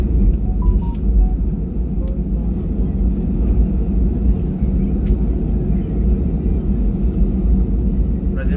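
Airliner rolling along the runway before takeoff, a steady loud low rumble of engines and wheels heard from inside the cabin throughout, with faint voices beneath.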